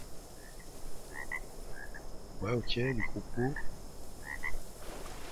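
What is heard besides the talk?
giant frogs or toads croaking in video game ARK Survival Evolved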